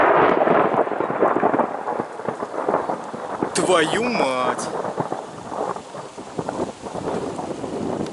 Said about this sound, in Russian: Короче, надвигается буря.